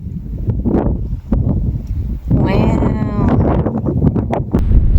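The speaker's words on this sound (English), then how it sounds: "quite windy though" Strong wind buffets the microphone on a mountain summit on the Isle of Arran, coming in rough, roaring gusts that rise and fall while a person talks through it.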